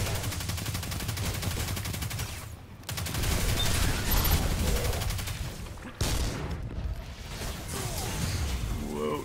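Gunfire rattles through a Destiny 2 Nightfall boss fight with a Warlock Stormcaller: dense, rapid automatic bursts and mechanical clatter, loud and close, breaking briefly twice before resuming.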